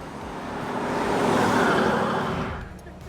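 1980 Pontiac Firebird pulling away after being put in gear, a muffled engine and road rumble swelling over a few seconds then easing off, heard from inside the car.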